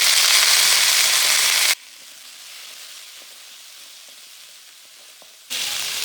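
Three tomatoes fry with small onions in two spoons of groundnut oil, giving a loud, bright sizzle that drops to a quieter crackle in the middle and then surges again.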